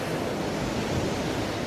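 Ocean waves wash onto a rocky beach in a steady, even rush of surf, moderately loud with no clear breaks.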